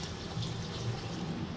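Hot water pours into a spicy Bengali prawn curry masala in a pan, a steady close splashing and gurgling stream with no talking.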